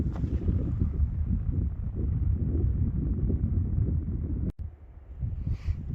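Breeze gusts across a Lake Superior Provincial Park campsite, a steady rushing buffet of wind on the microphone, briefly cut out near the end before returning more softly.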